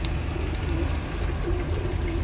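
Pigeons in a seller's loft coo in a low continuous rumbling murmur, fairly loud and close, with faint clicks over it.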